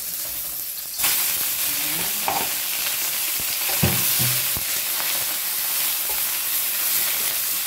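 Beef brisket drops into a hot pot and starts a steady, close sizzle, with a few clunks and stirring scrapes breaking through the bright frying hiss.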